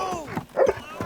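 Short yelping dog barks from a cartoon dog, several quick yips with a whimpering edge over about a second, fairly close and loud with no talk.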